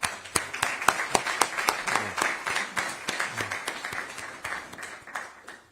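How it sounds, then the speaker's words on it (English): An audience at a New Jersey Supreme Court anniversary commemoration claps, sharp individual claps ringing out in a steady, fairly close rhythm that gradually thins toward the end. "Let's give one more round of applause."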